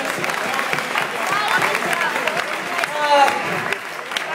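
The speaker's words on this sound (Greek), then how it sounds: "ένα δυνατό χειροκρότημα να ζεσταθούμε σήμερα" Applause and clapping from an audience fill the scene, steady and moderately loud, with crowd voices mixed in.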